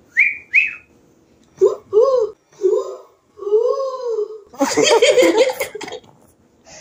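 Two short, bright whistled notes ring out up close, followed by laughter and excited voices talking.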